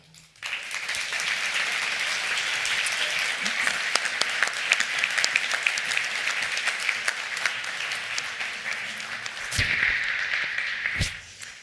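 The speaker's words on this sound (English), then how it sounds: "give the warmest round of applause to Rasha Al-Amir" An audience at the IPA Prix Voltaire ceremony in Lillehammer, Norway, applauds a recipient: a dense, steady round of clapping that starts abruptly, holds evenly for about eleven seconds, swells slightly near the end, then stops.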